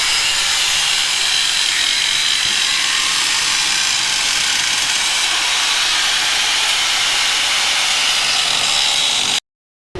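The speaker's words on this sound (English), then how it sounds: "I'm cutting out my spare tire so I can put in my coilover bar" A power tool cuts out the spare tire well of a Foxbody Mustang, a continuous loud, hissing, grinding roar held steady at close range for several seconds before stopping abruptly.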